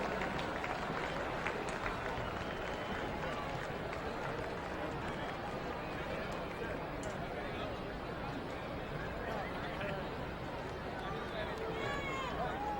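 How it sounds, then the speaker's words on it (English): A large stadium crowd at a 2000 Kahuku vs St. Louis high school football game keeps up steady applause and cheering, a continuous wash of clapping and voices heard at a moderate distance. "Ladies and gentlemen, let's give a warm round of applause to Chevron Hawaii"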